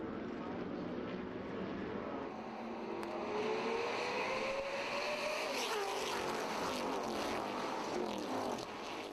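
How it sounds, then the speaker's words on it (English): Shelby Cobra race cars pulling away at the start of a race, engines droning loudly and continuously with a pass-by rise in pitch midway, carrying steadily across the whole stretch. "And the green flag for the race will be thrown by none other than Edsel Ford himself."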